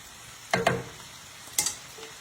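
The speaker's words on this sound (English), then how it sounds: "Going to give those green beans" Green beans frying in a pan get stirred, giving two short scraping clatters of a utensil against the pan over a faint background sizzle.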